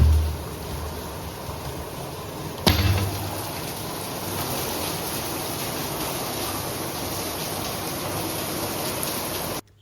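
Heavy early-morning rain pours without a break, a dense, steady, close hiss; a single sharp knock sounds partway through, and the sound cuts off abruptly at the end.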